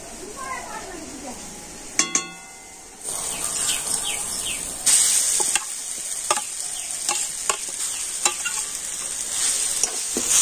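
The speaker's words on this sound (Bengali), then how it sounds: "আর এবার আমি দিয়ে দেবো গ্রেট করে রাখা আলু।" Grated potato frying with ginger in a pan, a steady sizzle broken by sharp clinks and scrapes of a spatula stirring, with a brief burst of louder frying partway through.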